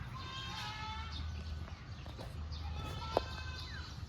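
Faint goat bleats rise from a cattle and goat farm in Agoncillo, Batangas, with a few thin, wavering calls over a low rumble of farmyard background noise and a brief sharp knock near the end.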